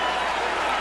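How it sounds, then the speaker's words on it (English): A boxing arena crowd roars as it rises during an exciting round, a brief, dense wash of cheering noise at moderate distance. "Crowd is rising for it."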